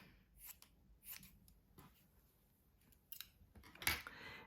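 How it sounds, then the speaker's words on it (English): Scissors snip through fabric wadding for a handmade Christmas card, with several quiet, crisp cuts spaced irregularly and a sharper, louder snip near the end, close up in an otherwise quiet room. "cut it out with a good 1/4 inch"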